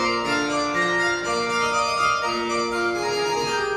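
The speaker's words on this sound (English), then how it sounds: "That can be a little harpsichord." Rodgers 790B electronic organ playing its harpsichord voice, a shimmering run of bright, thin tones with rich harmonics, steady and close with no talking.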